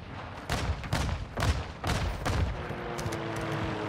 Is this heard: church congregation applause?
no